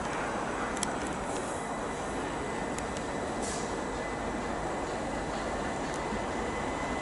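A London Northwestern Railway service to Tring at Watford Junction station on the West Coast Main Line makes a loud, continuous rumble close by, with a broad roar and faint high squeals on top.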